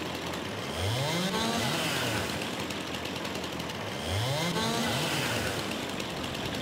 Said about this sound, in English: it's very dangerous as well, using a chainsaw